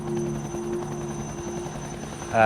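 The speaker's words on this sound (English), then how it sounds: "They've called in a helicopter to take the camp gear back down." A helicopter on a snowy Andes expedition gives a steady, rapid rotor chop with a low engine drone, loud and continuous, with a brief swell at the very end and no voices.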